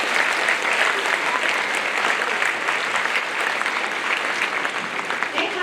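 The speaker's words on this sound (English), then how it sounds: "If you could give them a round of applause, that would be wonderful." Steady, dense applause from a large audience at a fourth-grade school concert fills the whole stretch, many hands clapping at once with no breaks.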